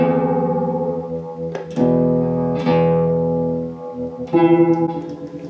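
Sustained electric guitar notes and chords through an Ernie Ball Expression Tremolo pedal in harmonic tremolo mode, with a pulsing, wavering shimmer that swells and throbs in volume, reverb off, played alone with no voices.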